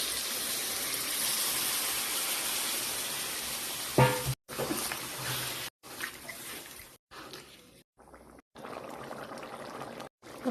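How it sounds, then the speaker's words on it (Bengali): Hot water is poured into a pot of cooking mutton and simmers with a bubbling, sizzling hiss, broken by abrupt cuts and a sharp clatter partway through. "তো এখন আমি একটু গরম জল ঢেলে দিব।"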